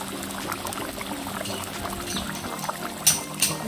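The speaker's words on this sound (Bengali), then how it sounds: "আর এর উপরে আমি দেবো কিছুটা পরিমাণ কাঁচা সরষের তেল।" Raw mustard oil pours over a chanda fish curry in a steady soft trickle, close and fairly quiet over a low background hum, ending with a couple of brief bright clinks.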